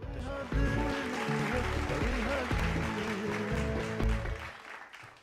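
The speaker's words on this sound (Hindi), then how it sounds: "ज़ोरदार तालियों में इस्तकबाल कीजिए।" Applause from an audience at an Urdu poetry program, steady clapping filling the space for several seconds, with music or voices mixed underneath.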